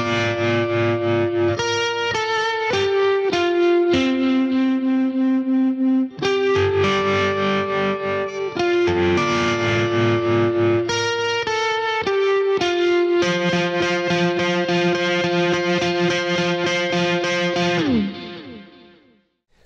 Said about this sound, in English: guitar, tremolo, a little bit of processing from the M9 for delay and reverb in the Fender amp